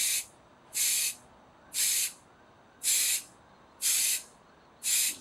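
Aerosol spray can laying down a light coat on a plastic mold inside a bucket, six even hissing bursts of about half a second each, spaced roughly a second apart, close and clear with no voices.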